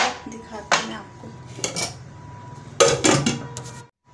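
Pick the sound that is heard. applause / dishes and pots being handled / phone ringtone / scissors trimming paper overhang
dishes and pots being handled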